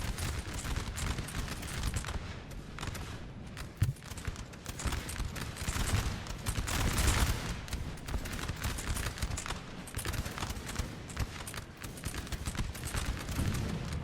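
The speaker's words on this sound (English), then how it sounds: "Especially with that artillery firing now." Artillery and massed musket fire crackle across a Napoleon Total War battlefield, with dense, irregular volleys and sharp reports rolling continuously under a distant, busy battle din.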